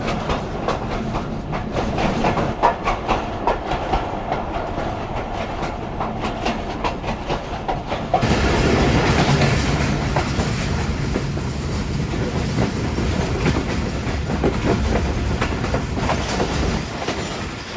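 Passenger train in Pakistan rolling along rails through heavy winter fog, a steady loud rumble of wheels and carriages with clickety-clack rhythm, growing louder and denser halfway through, no talk.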